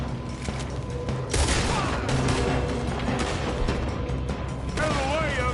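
Gunfire in Red Dead Redemption 2 with dense, overlapping shots and booms in a chaotic firefight, loud and sustained with some crashes mixed in.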